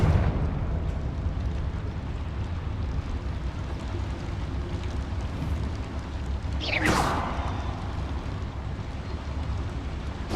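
A Confringo spell from the video game Hogwarts Legacy bursts with a sudden explosive whoosh and crackle midway through, set against a steady low rumbling game ambience.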